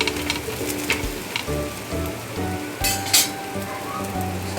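Wheat flour and jaggery pua sizzling in oil on a pan, a steady close crackle with a few sharper pops, heard alone with music-like tones underneath.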